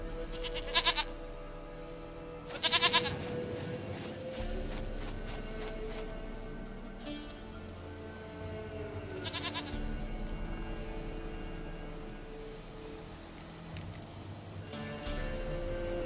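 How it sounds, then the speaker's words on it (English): Goat bleating in The Witcher 3: Wild Hunt, several short wavering bleats at close range, spaced apart over a steady game ambience with a low background hum. "Goat of mine, dearest,"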